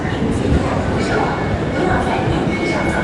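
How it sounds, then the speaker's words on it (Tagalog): A train rolls into a crowded station, a dense steady rumble and hiss with the murmur of many people around it. "Kararating ng train."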